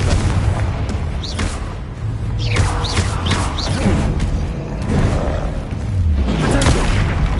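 Confringo blasting spells exploding in Hogwarts Legacy amid a spell-casting duel, repeated booming blasts and crackling bursts in a busy, continuous battle mix.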